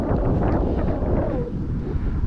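Strong, gusty wind buffets the microphone at an RC flying field as an E-flite Apprentice STS model plane flies in roughly 25 mph wind, giving a continuous loud low rumble with no talk.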